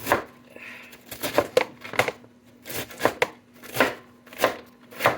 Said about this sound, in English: Okay, turn it, rough chop it.